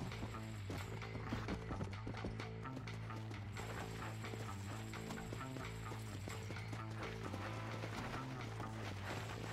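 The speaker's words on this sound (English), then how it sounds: "Riding a horse is a little different in this than it was in Origins 2." Horse hooves clip-clop steadily during a ride in Red Dead Redemption 2, a rhythmic trot running throughout alongside game music and mechanical clicking, with no talk.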